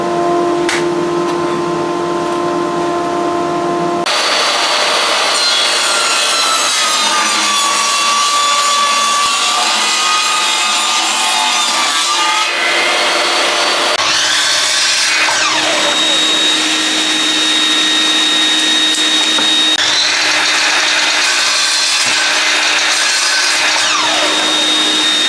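A saw rips a wooden board lengthwise for a dice tower build, a loud, sustained, continuous cutting roar with shifting pitch that runs almost the whole time, briefly easing and resuming, with no talking.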